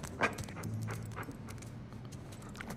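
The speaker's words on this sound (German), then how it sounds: "Was ist denn das? Ein Golden Retriever?" A Golden Retriever in the video game Uncharted 4 pants softly and rhythmically, quick breathy huffs repeating close by at low volume.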